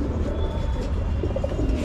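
Domestic pigeons coo softly in a loft, low repeated murmuring calls close by that overlap under a steady background hum.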